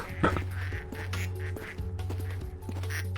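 Crowds of ducks in the duck factory of the video game Project P.I.T.T. give a busy, overlapping chorus of repeated quacks over a steady low hum.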